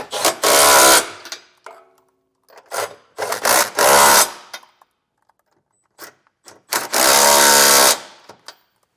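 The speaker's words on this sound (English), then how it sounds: "We can tighten our hardware down with a 19mm or a 3/4 inch socket." A power tool spins a 19mm socket to tighten trailer hitch bolts on a 2023 GMC Terrain, firing in several loud, close bursts of a second or so each with short quiet gaps between.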